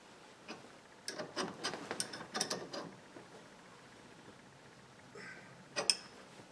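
A socket wrench turns a nut on a 1960 Cadillac, giving quiet, close ratcheting clicks in a quick irregular run, then a pause and a couple of final clicks.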